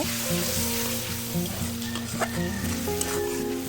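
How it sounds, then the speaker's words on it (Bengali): Ginger paste sizzles and crackles in a hot oiled pan as it is stirred, the frying close and steady throughout. A melodic tone runs underneath. "তারপর দিব আমি আদা বাটা"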